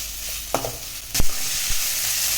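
Onions sauté in a pan for chicken curry, a constant close frying hiss broken by a few sharp scraping stirs and knocks of the spoon.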